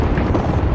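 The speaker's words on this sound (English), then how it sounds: "Grenade, watch out." A close, heavy grenade blast rumbles in a squad match of the Apex Legends battle royale game, a dense low boom filling the whole short moment.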